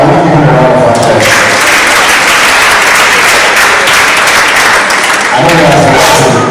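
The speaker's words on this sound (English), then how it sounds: "I will give him a round of applause." Business summit audience claps for a donor, loud continuous applause filling the room, with a few voices carrying briefly over the clapping near the start and end.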